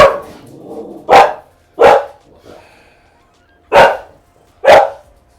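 Several dogs indoors bark loudly at a food delivery arriving, giving four sharp, close barks spaced about a second or two apart with quieter gaps between.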